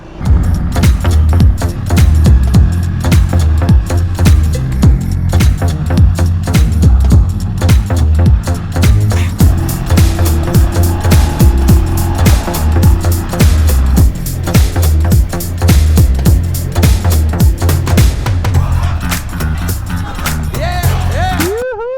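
Enduro motorcycle carrying two riders off-road through mud, its engine droning loudly and steadily up close, with rattling and bumps over rough ground and occasional speech mixed in.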